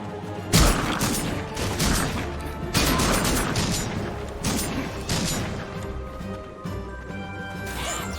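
Shotgun blasts in the video game Pumpkin Jack: several loud, booming shots fired at irregular intervals, each with a sharp crack and a lingering tail, amid clattering game effects.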